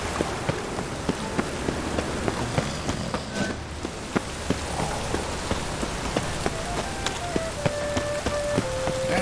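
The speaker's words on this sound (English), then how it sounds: "And it's raining again." Rain falling in the video game The Witcher 3 Wild Hunt, a steady hiss of drops on surfaces with scattered sharper patters, and faint distant rumbles underneath, no voices.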